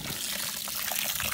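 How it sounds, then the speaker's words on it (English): Water pours steadily onto potting soil to moisten it for replanting a weather-damaged avocado tree: a close, continuous trickling splash with no speech. "What I'm going to do now is moisten this bottom soil here."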